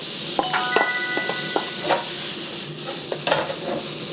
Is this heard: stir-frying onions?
yes